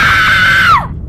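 A woman screams in horror in an animated Hindi horror story: one loud, sustained, high-pitched shriek that holds steady, then drops and breaks off near the end.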